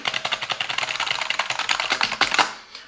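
Rapid, steady keystrokes on a Silvercrest gaming computer keyboard, close and fairly loud, with a few sharper clacks near the end.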